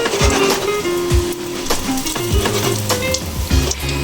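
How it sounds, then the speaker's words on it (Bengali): Peanuts fry in hot oil after curry leaves, with a steady close sizzle broken by several sharp scraping stirs of a spatula against the pan. "এবার বাদামগুলো আমি ভেজে নেব।"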